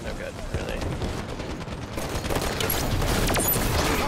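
In Halo 5 multiplayer, an incineration cannon fires amid dense, roaring battle noise that swells steadily louder over a few seconds, with heavy low rumble and crackling bursts throughout.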